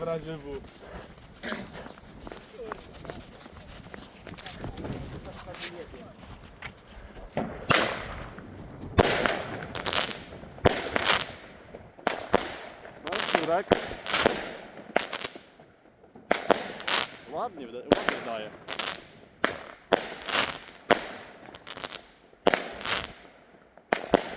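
A rapid series of sharp bangs and crackles from a 16-shot firework battery goes off in quick succession on New Year's Eve night, loud and close, with people talking at the start.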